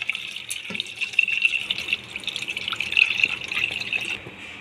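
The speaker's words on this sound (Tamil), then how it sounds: "ஒரு 1/2 லிட்டர் தண்ணி சேர்த்துடலாம்." Water runs steadily into a cooking pot for a kashayam herbal decoction, a bright, continuous splashing stream close by that stops abruptly near the end.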